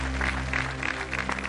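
Applause at a televised singing trophy event, a dense steady wash of clapping from a crowd, fairly loud, with no talk over it.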